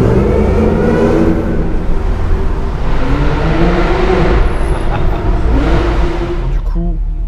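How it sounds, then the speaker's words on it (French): Porsche supercar engine during a Top Marques supercar test-drive event: a loud, sustained engine roar with sweeping revs that build and fade as the car goes by, unseen, over a busy noisy background. "la Porsche, on l'entend, mais on la voit pas"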